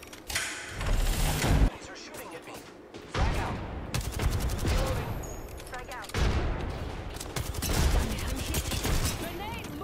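Bursts of automatic video-game gunfire from an arena shooter rattle in loud clusters, broken by short gaps and mechanical clatter, with dense layered shots filling most of the stretch.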